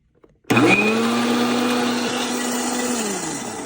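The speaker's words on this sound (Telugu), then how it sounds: "చేసిన ముక్కలు మిక్సీలో వేసి కోర్స్ లాగా చేద్దామండి పల్స్ మూడు తిప్పండి" A kitchen mixie whirs loudly for about three seconds after a brief click, coarsely chopping bottle gourd pieces for chutney, its motor pitch steady and then dropping slightly as the pulse ends.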